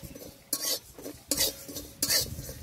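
Whole cumin seeds dry-roasting in a kadai, stirred close up in three distinct scraping, rattling sweeps separated by brief quieter pauses.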